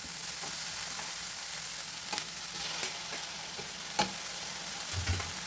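Tomato joins fenugreek leaves frying in oil for a North Karnataka palya, a steady hiss of sizzling broken by a handful of distinct stirring scrapes and taps in the pan, with no voices.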